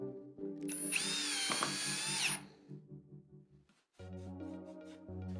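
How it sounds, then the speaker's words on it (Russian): A power drill whines at high pitch as it bores into wood, spinning for about a second and a half, then slows, pauses, and starts again. "Таким способом можно сверлить огромное количество отверстий."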